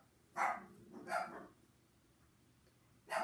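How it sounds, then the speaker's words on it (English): Indoor dogs in a house give a few sharp barks, three separate yaps spaced across a few seconds, moderately near but fairly quiet against a hushed room. "that's my oldest daughter's dogs"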